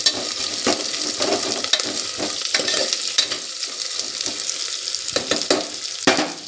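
Onions fry in hot oil for palak rice, giving a steady, close sizzle with intermittent scraping and clinks from stirring and no talking.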